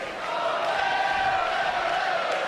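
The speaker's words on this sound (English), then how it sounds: "this crowd really gets behind Sami Zayn" Arena crowd noise in a WWE 2K wrestling video game, a steady, fairly faint roar of cheering spectators filling the space without a break.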